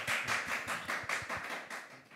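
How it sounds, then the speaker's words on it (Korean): An audience at an online business briefing event applauds to welcome award-winning team members, a steady patter of hand claps with rhythmic peaks, moderately loud and close, with almost no speech. "박수로 환영해 주시죠."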